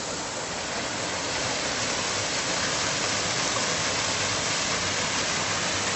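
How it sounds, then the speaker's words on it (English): A forest waterfall in Iztaccihuatl-Popocatepetl National Park gives a steady, dense rush of falling water. It is constant and broad, close by, with no voices. "So here's the other waterfall we heard a few seconds ago, or a few minutes ago up top."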